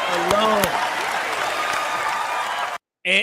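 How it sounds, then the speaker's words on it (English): A church audience applauds in a sustained, dense wash of clapping, with a voice speaking over the first moments before the applause cuts off. "I know women sitting there applauding"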